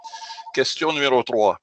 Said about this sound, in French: Désolé pour le téléphone, ça va s'arrêter. Sans doute que vous entendez sonner.